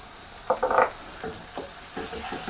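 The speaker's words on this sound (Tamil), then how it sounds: "இதோடைய பச்சை வாடை போகிற அளவுக்கு கொஞ்சம் நல்லா ஃப்ரை பண்ணி எடுத்துக்கோங்க" Ginger garlic paste fries with browned onions in a pan for a dal dumpling curry, a soft sizzle broken by several sharp bursts of stirring and scraping, close and alone.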